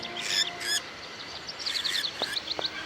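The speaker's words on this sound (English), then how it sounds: "Oh, it's birds." Birds chirping in the adventure game Syberia: a run of short, high, repeated tweets and trills, mostly alone and moderately close, with brief pauses between calls.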